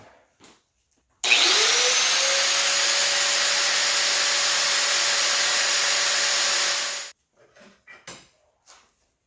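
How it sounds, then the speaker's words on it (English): An angle grinder cuts straight through a polished spark plug wire cover for a Honda B18B1/B20 engine, giving one steady, loud, high-pitched whine of about six seconds with a sharp start and a quick fade, then a few faint clicks. "I'm just going to get my angle grinder and just cut it straight through"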